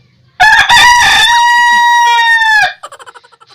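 A rooster indoors in a room lets out a loud, close crow with a long held note, followed by a few quick clucks trailing off.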